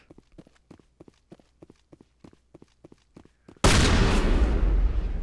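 A run of soft, evenly spaced footsteps in Mass Effect, then a sudden loud shotgun blast that erupts and sustains as a roaring burst of noise.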